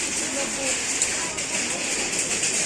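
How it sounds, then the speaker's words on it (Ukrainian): Heavy rain drums down on a market in a dense, continuous patter, loud and close, filling the whole stretch. "Чуєте, як дощ торохтить?"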